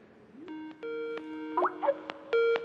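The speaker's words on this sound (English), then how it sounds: "my phone over here will give me a call" A phone rings with an incoming Microsoft sign-in verification call, a series of bright electronic tones and chimes in separate bursts, clear and close over quiet background.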